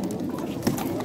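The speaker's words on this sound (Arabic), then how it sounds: "طبعا كلها طيور حمام" Pigeons coo in low, soft, repeated murmurs at a bird market in Jordan, close by and continuous, with crowd noise mixed underneath.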